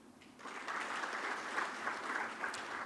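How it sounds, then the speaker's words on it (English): Conference audience applauding for Nigerian delegates at an energy conference: steady, sustained clapping from a large hall crowd, faint and distant, with a few brief voices. "I see that Nigerians are clapping for their people more."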